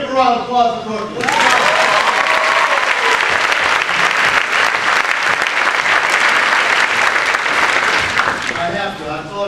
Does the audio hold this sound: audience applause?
yes